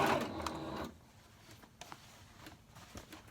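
A sewing machine runs in a short burst, stitching non-stretch denim jeans into shorts, then stops, leaving faint scattered handling noises in a quiet room.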